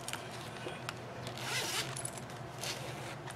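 A zipper is pulled along a padded diamond painting light pad case in several quick, close-up scraping runs, with no talking.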